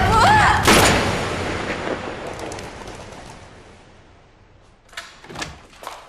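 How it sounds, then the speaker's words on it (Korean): A single loud, sharp shot booms out near the start and rings off into a long fading echo, followed by a few faint thuds. "한 발의 총성이 들리는데"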